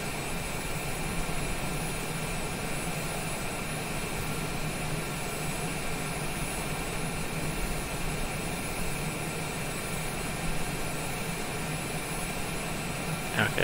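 A Cessna Citation Longitude business jet in Microsoft Flight Simulator holds a steady, even engine drone in flight with flaps out, a continuous broadband hum at moderate level and no talk.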